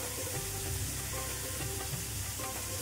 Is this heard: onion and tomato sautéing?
yes